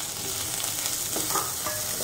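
Green peas tipped into a pan of browned onions fry with a steady, bright sizzle and light stirring scrapes, close and continuous.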